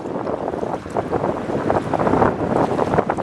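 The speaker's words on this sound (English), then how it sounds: "You can hear me over the wind, of course." Blustery wind beside the Peconic River in the Pine Barrens at Peconic Bog County Park, loud gusts roaring and buffeting the microphone in rough, continuous surges.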